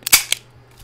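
A BB gun fires indoors, sharp snappy cracks: a quick double report, then a louder main pop and a second crisp shot, fading into quiet room tone.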